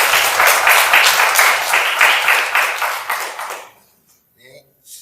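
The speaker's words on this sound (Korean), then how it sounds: "한번 좀 격려의 박수" A church congregation applauds a student interpreter, a dense burst of clapping for about four seconds that cuts off into near silence with a few faint taps.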